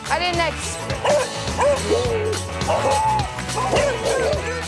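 A hunting dog barks and yips repeatedly in short bursts, close by, with a person speaking briefly over the barking.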